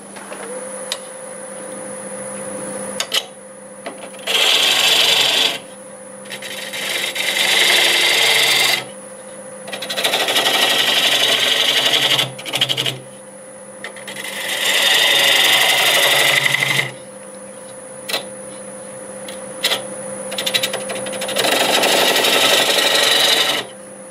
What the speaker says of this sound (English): I'm going to finish out this tenon using a 3/8 bowl gouge.